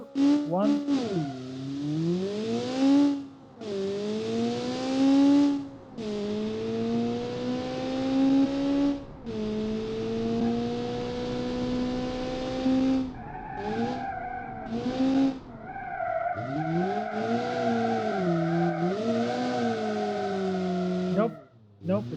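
A car's engine revs and its tyres squeal in long drawn-out skids, the pitch sweeping up and down through several passes, loud and sustained with short gaps, with a voice talking at times.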